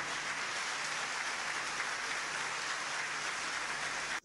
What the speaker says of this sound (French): j'invite toute l'Assemblée à ovationner en acclamant le Seigneur Jésus-Christ